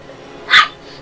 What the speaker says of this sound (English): my dogs are all acting up, so you'll get to hear them in the background as they play with each other